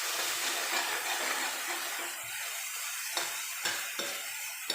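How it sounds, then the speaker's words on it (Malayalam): Onion, garlic and ginger sauté in a pan for a brinjal curry, giving a steady close sizzle with soft stirring scrapes and a few sharper clinks near the end. "ഉള്ളി ഒന്ന് വഴണ്ടാൽ മതി"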